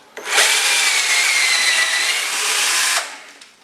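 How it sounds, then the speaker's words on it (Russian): Power drill boring dowel holes with an 8 mm bit into a panel for a homemade dresser, one steady high-pitched whine lasting about three seconds, loud and close, with no voices. "И 8-м сверлом уже под шкант проходим."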